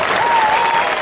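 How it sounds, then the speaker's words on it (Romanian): A crowd applauds loudly and continuously at an eco-awareness campaign event during a prize presentation in Sita Buzăului. The clapping is a brief, full burst. "Puteți să aplaudați, poza."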